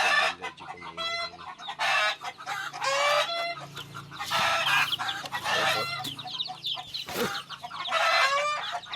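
Belgian Leghorn hen clucking with her chicks nearby, bird calls repeating in close, busy bursts throughout, with high peeping and a low hum beneath.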